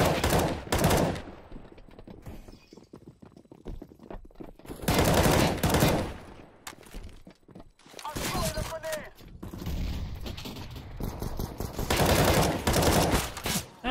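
Bursts of rapid gunfire in the Counter-Strike-style game Counter Pay Day Strike Global Solid 2 Offensive, loud clustered volleys repeating across the stretch with quieter gaps and voices talking underneath.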